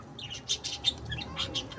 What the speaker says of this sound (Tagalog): May ingay yung mga chismosang ibon, may ingay.